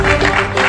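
Short stretch of audience applause welcoming Jean-Claude Wemba, rhythmic clapping from a crowd with a faint tonal hum underneath, fairly loud and with no speech over it.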